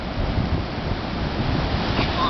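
Surf breaks on Sunset Beach during a beach handstand contest, a steady, loud wash of waves mixed with heavy wind rumble across the microphone, with no clear talking.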